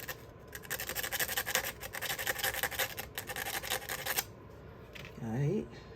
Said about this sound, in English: once you sand it down